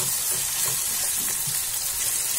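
Garlic paste and spices frying together in a pan while cooking methi aloo, a steady soft sizzle with light stirring scrapes throughout, close and continuous with no talking.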